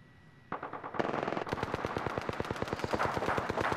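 Rapid automatic gunfire from a team firefight in the game Apex Legends, steady bursts of loud shots after a brief quiet start, continuing in a fast rhythm to the end.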